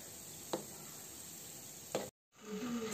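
Wheat flour gulab jamun balls fry in hot oil with a steady soft sizzle, two light knocks from a utensil, and a brief cutout before the bubbling resumes.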